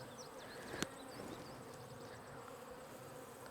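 Honeybees buzz steadily at close range, a soft continuous drone with individual insects whining past now and then, plus one sharp click.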